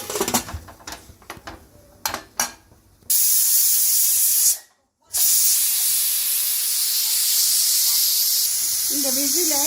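A kitchen pressure cooker holding snake gourd vents its steam: a few clinks and clatters come first, then a loud, continuous close hiss breaks briefly and resumes steadily.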